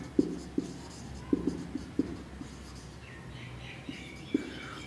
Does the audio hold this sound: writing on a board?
yes